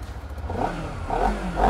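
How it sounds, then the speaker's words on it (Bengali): A Honda CBR 250RR SP motorcycle in Bali fires up and its engine rumbles and rises in revs, close by and loud. "প্রথমত বাইকটা স্টার্ট করি নাকি?"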